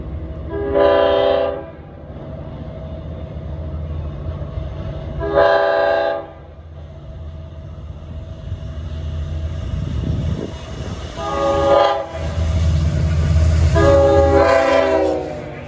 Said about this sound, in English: This train 8056 heads east on the main line towards Ronkonkoma.